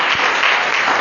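A church congregation applauds in a brief, dense burst of steady clapping, loud and continuous through the moment.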